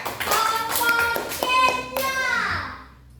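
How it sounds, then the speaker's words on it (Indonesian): A classroom of children claps for group 2, a burst of hand claps with some scattered tapping and young voices, fading out after about three seconds. "tepuk tangan buat kelompok 2 ya"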